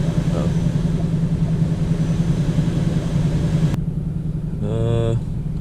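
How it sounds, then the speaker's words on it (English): A 2024 Ford Mustang GT V8 sports car idles on a cold start with a steady, low exhaust rumble that runs throughout, while a voice speaks briefly over it near the end. "as at idle right now, it does sound really good"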